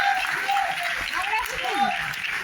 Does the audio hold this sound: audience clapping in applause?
yes